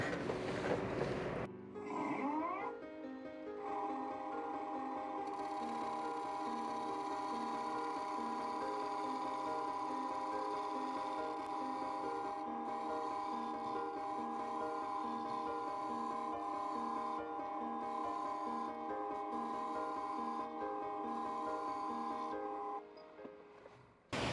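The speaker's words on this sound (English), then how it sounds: "1-inch negative rake scraper, 1000 RPM." A maple salad bowl spins on a wood lathe at 1000 RPM while a 1-inch negative rake scraper cuts it, giving a steady whirring drone with a continuous scraping hiss that runs for over twenty seconds before stopping.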